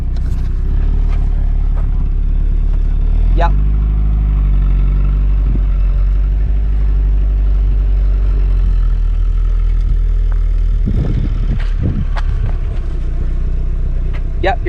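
A stock 1.8-litre Mazda MX-5 Miata runs a 0-60 acceleration pass, its engine droning steadily and loudly with a brief surge partway through, heard from close by with some clatter and wind.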